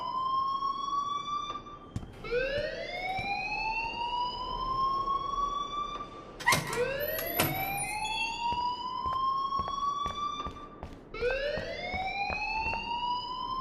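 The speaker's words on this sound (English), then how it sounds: "please turn off that alarm since that's your job" A fire alarm in the video game Life is Strange wails in a repeating rising siren sweep, loud and steady, each tone climbing then holding before restarting, with no talk over it.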